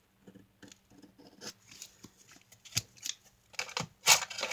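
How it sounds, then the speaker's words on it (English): Scissors snip a small piece off craft material for a beginner cover, a quick series of light, close cuts and rustles with no talk. "And I might have to cut a little piece off here again."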